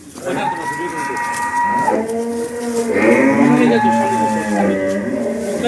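A pregnant crossbred dairy cow lows in two long, loud, close moos, a brief pause between them, with faint farmyard background noise.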